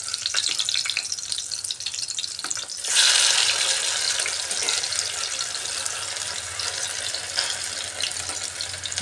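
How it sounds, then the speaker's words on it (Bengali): Karkul pieces fry in hot oil and are turned over, giving a steady, close sizzle that swells briefly after the flip and then settles into a continuous crackling hiss with no talking. "এক সাইডে আমি কড়া করে ভেজে নিয়েছি, অপর দিকটাও ভেজে নিচ্ছি।"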